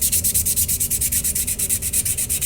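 Sandpaper rubbed rapidly back and forth over sheet metal, a steady rhythmic rasping stroke repeated about eight times a second, close and loud with no voices.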